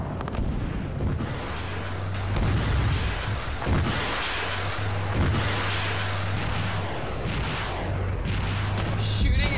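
Rocket fire from a vehicle in a combat video game, with a dense barrage of booming launches and explosions, loud and continuous under a low droning hum.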